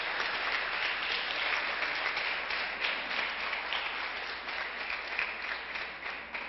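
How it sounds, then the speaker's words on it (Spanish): Audience applause breaks out for an ambassador based at the OEA in Washington during a municipal oratory contest, a dense, steady wash of many hands clapping, fairly distant and continuous for the whole stretch with no talking over it. "Yo le pido un aplauso para él"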